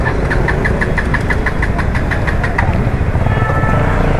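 An auto rickshaw engine on a Chennai roadside runs with a fast, steady knocking putter, loud and close, its rhythm shifting slightly near the end with no talk.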